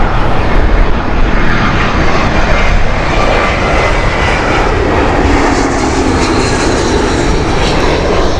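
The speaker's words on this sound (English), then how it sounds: "Eurowings here, Airbus A319 inbound." Eurowings Airbus A319 airliner inbound, its engines a loud, steady roar with a broad rushing whine that holds throughout.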